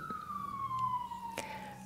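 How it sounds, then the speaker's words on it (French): A siren wails steadily in the distance, its tone sliding slowly downward throughout, with faint traffic rumble underneath. "quand on entend une sirène comme ça"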